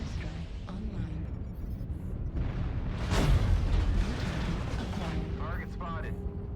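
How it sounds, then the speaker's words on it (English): Deep booming explosions from an airstrike in a mech combat game, a rumbling surge that peaks midway and lingers under game radio chatter and voices. "Airstrike online."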